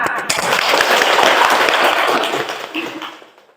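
An audience claps after a Quran recitation at a teaching performance session, a dense burst of hands that swells quickly, holds steady, then fades out near the end.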